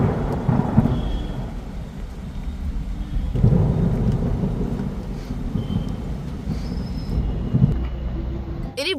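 Rain falls steadily while heavy thunder rolls and rumbles in several deep swells, loud and enveloping throughout.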